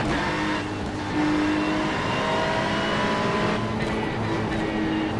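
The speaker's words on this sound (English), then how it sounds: "A little bit of a wheel spin there on the exit of that left-hander, upset the car a bit." GT3 race car engine in the iRacing sim at Road America, a loud, steady, buzzing drone that swells slightly as it rises, heard alone with no talking.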